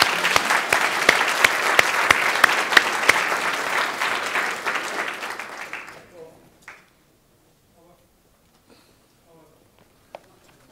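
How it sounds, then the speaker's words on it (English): Audience applause for panel participants at a soil-focused conference session, dense and steady for about six seconds before tapering off into near silence with a few scattered late claps. "I would like again to ask you for a round of applause for our participants"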